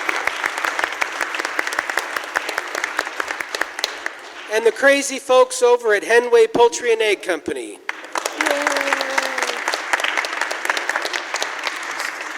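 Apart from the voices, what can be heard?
audience applause for show sponsors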